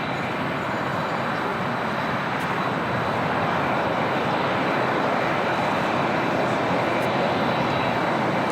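A Lufthansa Boeing 747 taxis and makes a left-hand turn onto a taxiway at LAX, its jet engines giving a steady, loud broadband roar that holds evenly throughout with no talk.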